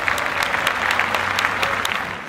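Close, loud applause with dense overlapping claps and a few sharper hand slaps, sustained for a couple of seconds and tapering slightly at the end, with no talk over it.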